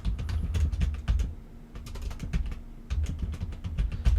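Computer keyboard keys clatter in rapid, irregular bursts of typing close by, over a low steady hum, with brief pauses between runs.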